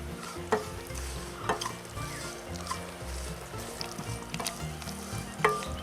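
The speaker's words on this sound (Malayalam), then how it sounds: "മുളക് മൂത്തു കരിയാപ്പില ഇടാം." Curry leaves and chili crackling in hot oil, a continuous sizzle with sharp pops and spatters and occasional stirring clinks.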